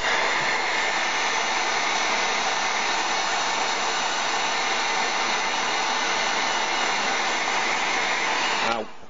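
A heat gun blows a loud, steady rush of hot air for about nine seconds to soften an N gauge model bridge part before cutting off abruptly at the end.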